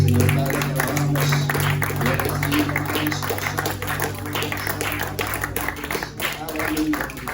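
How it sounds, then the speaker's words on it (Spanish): A church congregation claps together in steady applause, filling the room loudly throughout, with voices and a sustained musical backing running underneath the clapping. "¿Por qué no le dan un fuerte aplauso al Señor?"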